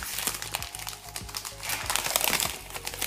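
Paper and plastic wrappers crinkle and rustle close up as a pack of chocolate reindeer from a December food subscription box is unwrapped, in quick irregular bursts with no talking.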